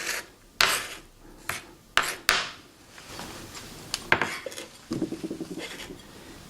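Chopped onion scraped and slid across a cutting board with a knife, a few sharp scraping strokes and clicks followed by lighter tapping, close and alone, while making a ham and potato omelet.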